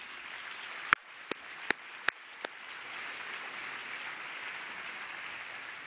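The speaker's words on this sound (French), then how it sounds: "je vais vous applaudir" A conference audience at a cooperation forum in Milan breaks into applause, opening with a few loud, sharp claps before settling into a steady, moderate wash of clapping from across the hall.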